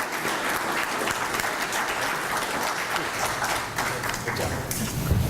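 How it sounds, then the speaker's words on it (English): Full, sustained applause from the audience at a Hawaii energy future panel, dense and loud clapping continuing evenly for the whole stretch. "Can we have a round of applause for Marco and Jay and Isaac?"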